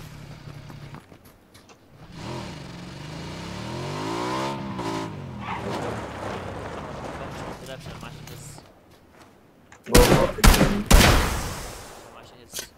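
A motorcycle engine revs and drones in the battle royale game PUBG, its pitch sweeping up and down under steady voice chat, then sharp bursts of gunfire break in near the end.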